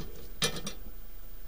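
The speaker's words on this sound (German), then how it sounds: "Gebe meinen Deckel wieder drauf" A heavy lid set back onto a Dutch oven of pulled pork gives a single sharp metallic clink with a short rattle, close and clear against a steady hum.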